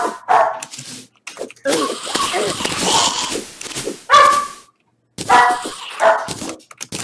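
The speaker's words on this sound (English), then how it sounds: "I would really wish my dog would stop barking" A dog barks indoors in the room, a series of loud, sharp barks and yips in irregular bursts with short pauses between them.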